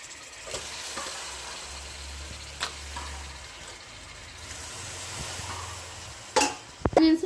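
Chicken frying with onions in a pan for curry, a low steady sizzle with soft stirring scrapes and a couple of sharper clinks near the end, heard close.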